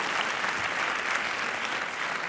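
A large audience claps loudly and continuously in a dense, steady wash of applause at a lecture event.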